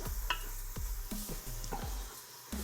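Onions sauteing in melted butter in a pot, with a soft sizzle under repeated close scraping and clinking strokes of a utensil against the pan.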